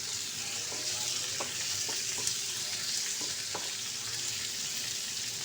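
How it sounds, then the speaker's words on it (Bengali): Chopped tomato frying in a pan, a steady close sizzle running throughout with a few soft spatula taps and scrapes spaced across it. "টমেটোটা দিয়ে আমি খুব ভালোভাবে এটাকে ভেজে নেব"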